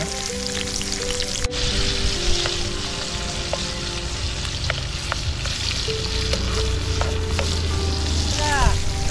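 Onion, garlic and chili frying in a pan during beachside outdoor cooking, a loud, steady close sizzle with light stirring clicks and faint outdoor background underneath.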